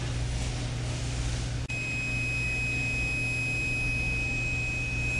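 A continuity tester on a Jameson Duct Hunter rod repair gives a steady electronic tone that switches on partway through and holds unbroken to the end over a low background hum, signalling a good splice.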